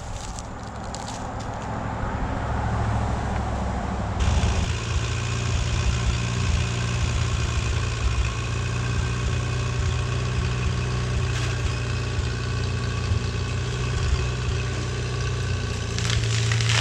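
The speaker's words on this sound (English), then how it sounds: "I'm gonna try to pull it down with my tractor so it don't land on my building." A tractor engine runs steadily close by while pulling down a tree, a loud constant rumbling drone that picks up and deepens after a few seconds and then holds at a heavy working pace, with faint creaks and no voices.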